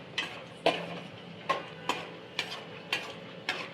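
Peanuts frying in oil in a pan while being stirred, giving a steady close sizzle broken by about seven regular scraping strokes, no voices.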